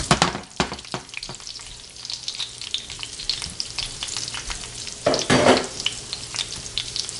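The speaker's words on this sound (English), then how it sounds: "We fry this potato for a little bit and then we put it in the oven." Potatoes frying in a pan as home fries, a continuous close sizzle with sharper crackles and stirring bursts, especially loud near the end, with no talking.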